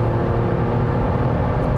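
Alfa Romeo Stelvio Quadrifoglio driven hard at about 200 km/h, a loud, steady roar of engine, tyre and wind noise filling the cabin without a break.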